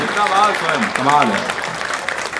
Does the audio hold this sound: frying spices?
no